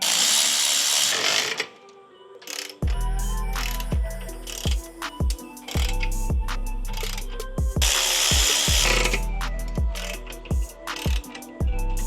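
A power tool tightens a Tomei dual-exit exhaust on a Subaru WRX, firing in repeated short bursts with pauses between, loud and close in a garage.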